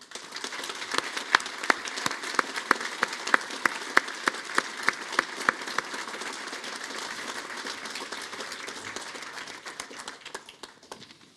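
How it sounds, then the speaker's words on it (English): A graduation audience at Griffith College Limerick breaks into sustained applause, dense clapping from a large crowd holding steady for over ten seconds before gently thinning out. "I'd like to invite everyone to give a final special round of applause to all our graduates here today"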